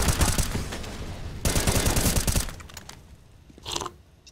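Automatic gunfire from a video game during a tournament-style match crackles in two long dense bursts, then a brief sharper burst follows after a lull.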